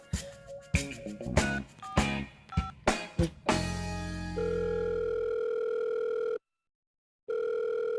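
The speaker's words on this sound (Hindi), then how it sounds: "फोन क्यों नहीं उठा रहा है अब?" Phone tones and dialing beeps, then a steady electronic ringback tone that pauses briefly and resumes; no voices.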